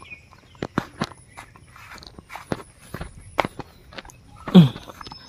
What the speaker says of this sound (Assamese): গাড়ীখন লৈ নাযাওঁ খোজকাঢ়িয়ে যাওঁ বোলো